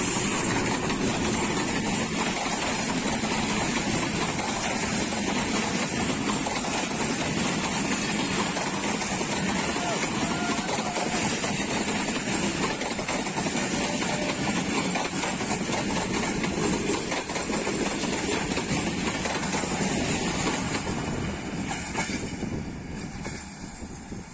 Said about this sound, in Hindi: ये था आज का पहला एक्शन 101 अप रेल कार